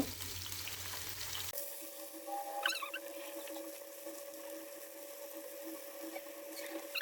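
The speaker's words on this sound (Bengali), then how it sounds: "এক পিঠ ভাজা হয়ে গেছে আমি এখন উল্টে দেবো" Pieces of coral fish frying in a pan of hot oil as they are turned over, a continuous close sizzle with a brief sharper scrape and clatter near the middle.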